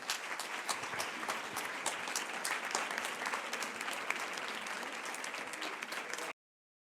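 A live audience breaks into sustained, dense applause for Dr. Ricardo Castañón, a researcher and president of an international peace group, filling the hall evenly for several seconds before cutting off abruptly.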